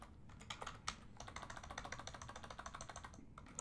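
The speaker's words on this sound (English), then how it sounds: "I can even type down here." Steady typing on a computer keyboard while entering text in the nano editor on a Linux command line: a dense run of quick, light key clicks, close and fairly quiet, continuing for several seconds with no voice.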